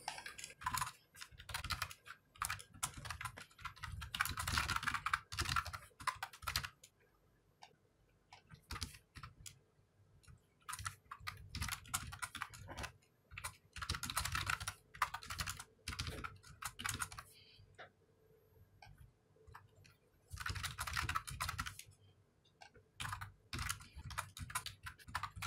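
Code being typed on a computer keyboard for Commodore 64 assembly programming: bursts of rapid key clicks separated by short pauses, close and fairly quiet, with no talk.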